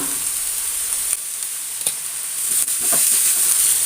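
Sliced onions sauté in a pan with a continuous close hiss and sizzle. A few clicks and stirring scrapes break in along the way.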